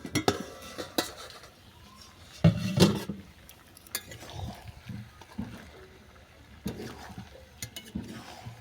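Scattered clinks and scrapes of a utensil against a covered pan as chicken for hing chicken is turned, with intermittent lid and dish knocks, fairly faint and irregular, no talking.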